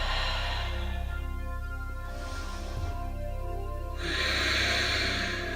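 Deep, steady breaths drawn in and pushed out during a yoga shoulder stretch, with a strong airy exhale at the start, a softer one in the middle and another full breath near the end, close and alone.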